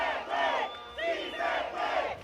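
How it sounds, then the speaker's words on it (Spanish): A street crowd chants in rhythmic bursts for an indigenous minga march supporting a national strike, three loud swelling vocal phrases rising and falling in quick succession. "las personas les agradecieron con aplausos y cánticos el apoyo al paro nacional"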